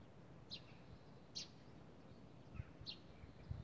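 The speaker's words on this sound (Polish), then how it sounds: "Ptaki zaczynają śpiewać." Sparrows chirping at sunrise over rooftops and a valley with willow trees, a few short, high chirps spaced about a second apart, faint and distant against quiet outdoor ambience.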